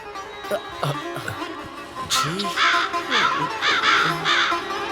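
Several crows caw loudly in a run of harsh, repeated calls, with other voices mixed in from a film scene, one caw after another growing denser toward the end.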